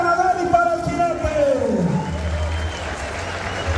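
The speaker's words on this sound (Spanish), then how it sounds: "fuerte el aplauso para el ganador y para el jinete" Crowd applause at a Jalisco rodeo for the winning bull and its rider, a broad clapping wash heard under a loud amplified announcer voice, with a low rumble rising near the end.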